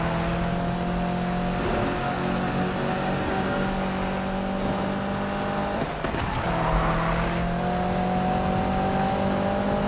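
Racing car engine in Need for Speed: a loud, sustained high-revving drone with steady harmonic whine, briefly dipping and shifting pitch near the middle as gears change, then climbing again, close and constant without speech.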